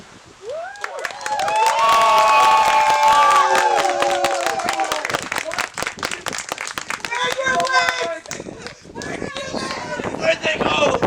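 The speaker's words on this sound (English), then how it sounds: "Everyone give a round of applause for Elena." A crowd at an Amtgard LARP event claps and cheers for Elena. Loud whoops and shouts rise over dense applause and then slowly thin out into scattered claps, with voices mixed throughout.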